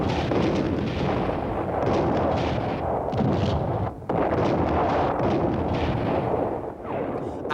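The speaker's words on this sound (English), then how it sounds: "Sharon brought forward the divisional artillery units to soften them up by persistent bombardment" Divisional artillery pounds positions in a persistent bombardment, a dense continuous rumble of booming blasts with a brief lull, heavy and distant-sounding.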